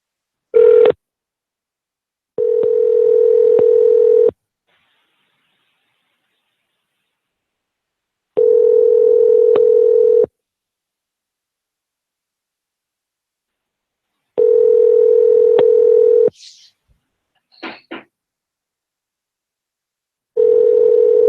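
Telephone line tone sounding in repeated steady beeps of about two seconds with longer silent gaps between, loud and clear, with a couple of brief faint chirps in one gap.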